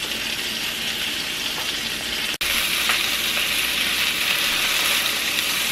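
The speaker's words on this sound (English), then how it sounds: "I've got my stove top set on about medium-high heat, and like I said, we're just going to brown these on both sides." Chicken pieces browning in a pan on a medium-high stovetop sizzle loudly and continuously, a dense crackling fry with a momentary break partway through.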